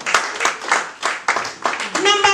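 A church congregation clapping during a Twi-language service in the Bronx, a few strong rhythmic claps with excited voices and a preacher speaking over them.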